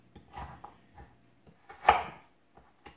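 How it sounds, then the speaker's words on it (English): A knife cuts through raw bovine testicle on a board, giving a few soft, scattered thuds and one sharper, louder chop near the middle, with no talking. "So, at this point, I cut it for the section that I want for today."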